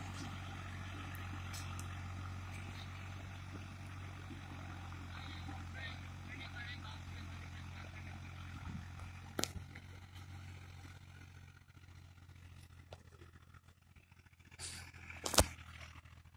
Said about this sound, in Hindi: आज आपके लिए वीडियो लेकर आए हैं 1997 का मॉडल फीयर 480, जो 8 फुट ऑफ ब्लेड पर चल रहा है।